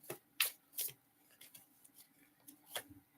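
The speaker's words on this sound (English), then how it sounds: "Okay, let me shuffle this a little bit more." Tarot cards are shuffled by hand in quick, faint riffling bursts. A few sharp flicks come near the start, then softer shuffles follow, with no talking.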